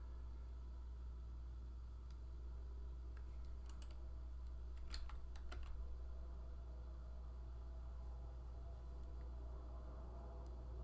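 Soft keyboard typing at a computer during language study: a short burst of light clicks in the middle, faint over a steady low hum.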